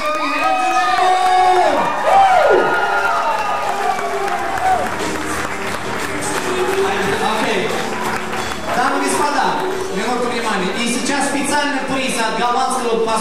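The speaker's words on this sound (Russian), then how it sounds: "Еще раз аплодисменты." A crowd applauds and cheers for the winners at an awards ceremony, steady dense clapping with whoops and shouts across the whole stretch. A voice rises briefly over the noise near the start.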